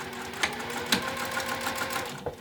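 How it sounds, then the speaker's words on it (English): A sewing machine stitching fabric sections of a pouch, a steady, fast mechanical whir with rhythmic needle ticks, close and moderately loud, with no talking. "I can sew the other two sections just as easily as I did the first two"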